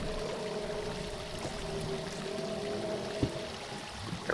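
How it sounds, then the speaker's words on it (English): Flowing water from a Minecraft game world, a steady pouring, streaming wash that runs continuously at moderate level with no talk, a few small clicks near the end. "we're gonna shut this water down over here"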